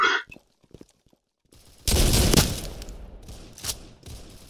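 In the Roblox game Counter Blox, a sudden burst of loud, close shotgun fire erupts after a near-silent start, followed by a decaying echo and another sharp shot.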